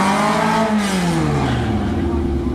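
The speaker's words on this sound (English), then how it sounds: "And you hear him as he comes up to the line with that little VW Bug." A 1962 VW Bug drag racing toward the finish line at a points race: a loud, steady engine drone whose pitch slides downward as the car speeds past.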